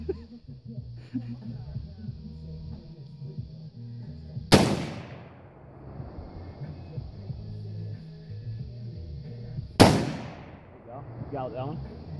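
Guns fire at an outdoor target shooting session, two sharp loud reports spaced several seconds apart over steady background noise and low murmuring voices.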